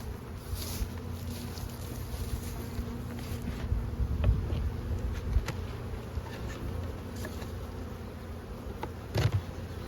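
Honey bees buzzing around a beehive with a brood chamber, a continuous soft drone of many wings close by, with light wind and occasional faint knocks.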